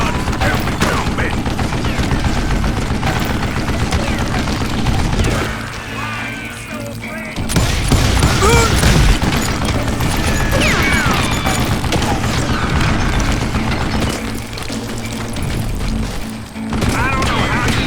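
Repeated gunshots and booms from the Western shooter game Call of Juarez: Gunslinger, loud rapid volleys with brief pauses, under game dialogue voices.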